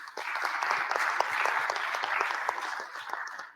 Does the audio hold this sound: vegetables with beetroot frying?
no